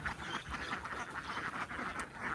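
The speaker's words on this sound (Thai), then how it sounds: "นี่คือการนับเป็ดส่งกันนะคะ" Many ducks quack continuously on a duck farm while being counted, a dense, steady flock chorus with no talk.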